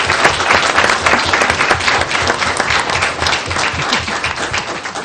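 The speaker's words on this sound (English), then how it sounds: "while your hands are still clapping, let's congratulate all of our 2016 statewide elementary honor corps students" A school board meeting audience applauds statewide elementary honor corps students, dense, loud, continuous clapping from a full room with no talking over it.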